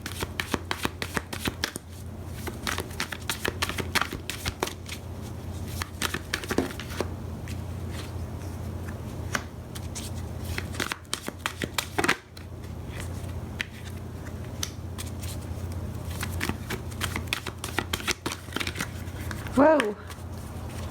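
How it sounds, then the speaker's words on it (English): A deck of Romance Angels oracle cards is shuffled over and over, a long run of crisp, close riffling card flutters with short breaks, over a low steady hum. "Let's pull some Romance Angels cards and see if we can get a little bit more detail about"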